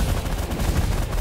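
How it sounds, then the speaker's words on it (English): Rapid, continuous minigun fire from a ship in the space strategy game The Last Federation, a dense, sustained rattle of shots with steady loudness and no talk. "We're gonna swap to the minigun and fire on you."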